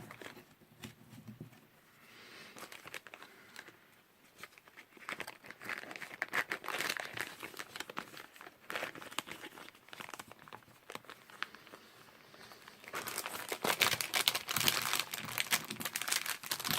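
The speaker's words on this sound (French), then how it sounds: "Je viens tout remettre dans le sachet pour pas tout mélanger" Plastic bag crinkling and rustling as cross-stitch supplies are put back inside, a continuous close rustle that swells louder and busier toward the end, with no talk.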